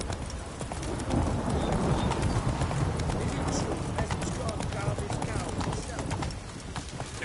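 Hooves of Roach, a horse in The Witcher 3, clip-clop in a steady rhythmic trot at moderate distance, with game voices speaking over the hoofbeats.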